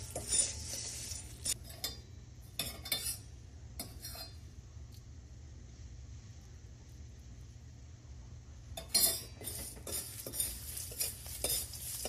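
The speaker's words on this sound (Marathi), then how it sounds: "थोडेसे तेल घालून मी मंद आचेवरती आता हे भाजून घेते. सारखं सारखं हलवत राहायचं" Whole garam masala spices roast in a little oil in a pan over a low flame, stirred continually. Soft scraping and light clinks come in short bursts at the start and again near the end, with a quiet stretch between.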